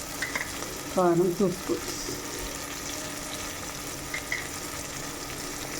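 Tomatoes fry in a pan with turmeric, salt and chili powder, giving a steady low sizzle throughout. A voice speaks briefly near the start.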